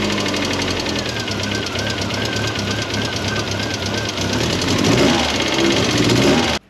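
A Mk1 Ford Fiesta engine runs steadily with a rapid tappety ticking over its hum, close and loud, rising slightly near the end before cutting off abruptly.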